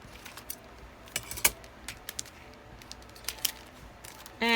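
Scissors snipping and clicking while cutting open a mail package, a few sharp irregular cuts and crinkles close by, ending in a louder rustle.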